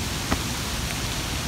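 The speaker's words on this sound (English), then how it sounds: "starting to rain really good" Steady, dense rain falls outside an attic under renovation, a broad hiss with a small tap near the start, heard continuously with no talking.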